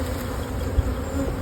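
Honeybees hum steadily from an opened nucleus hive, a close continuous buzz with no voices.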